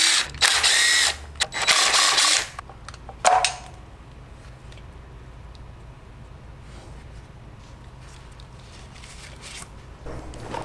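A ratchet clicks loose the kickstand bolts on a wrecked Honda CBR1000RR during teardown, with loud bursts of rapid ratcheting in the first few seconds and then near-silence.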